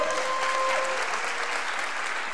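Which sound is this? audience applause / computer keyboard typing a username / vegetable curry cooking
audience applause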